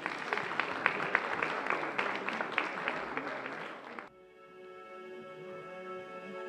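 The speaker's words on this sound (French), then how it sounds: "sous un tonnerre d'applaudissements, s'il vous plaît." Audience applause at a regional French chanson contest in Torcé-en-Vallée, a steady dense clapping for about four seconds that stops abruptly, giving way to quiet sustained musical tones.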